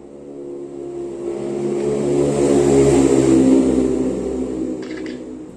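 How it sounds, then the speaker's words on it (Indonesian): A motorcycle's engine rises in a broad swell, building to a peak near the middle and fading away again as it passes close by, with no speech over it. "ini ada motor lagi di sini nih"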